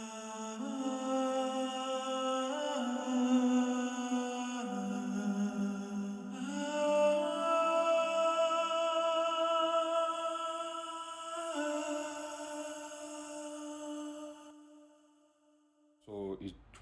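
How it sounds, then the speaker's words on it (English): A choir track from a music production, voiced normally and treated with delay, reverb and tuning, sings sustained layered chords that shift every few seconds, smooth and reverberant, fading before a short voice at the end. "This was the normal voiced choir."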